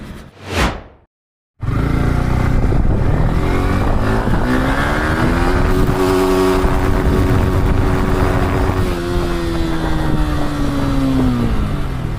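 Yamaha R15 V4 motorcycle accelerating hard on a highway, a brief whoosh followed by a loud, steady engine roar with rising and shifting tones as it climbs through the gears, strong wind noise throughout.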